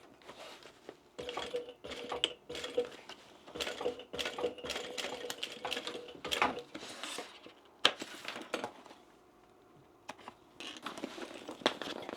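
Sewing machine stitching a bag in bursts of rapid mechanical whirring, pausing and restarting repeatedly, close and fairly loud with no talk.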